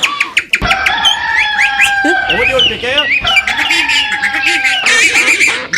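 Warbling, honking bird calls made with a tongue-held bird-call gadget that imitates birds such as a buzzard and a duck, sounding loud and continuous with people talking over it.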